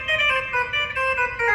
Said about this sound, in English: the full cornet sounds like this.